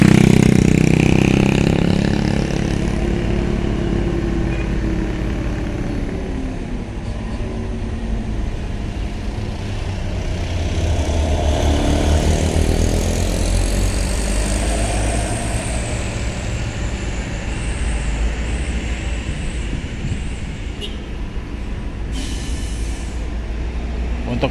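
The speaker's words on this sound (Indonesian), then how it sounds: "Malam ini mendominasi kendaraan truk yang masuk di pintu masuk Pelabuhan Bakahuni ini teman-teman" Trucks roll through the entrance gate of Bakauheni port at night, a steady low diesel rumble with rising and fading engine drone as vehicles pass nearby, and a voice talking over it.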